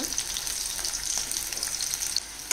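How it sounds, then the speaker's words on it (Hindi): Ginger, garlic and onion paste fries in a hot pan with oil while cooking a vegetarian fish-style curry, giving a steady, close sizzle with soft crackles and no talk. "अदा रसुण पियाज बटा को पकईदे"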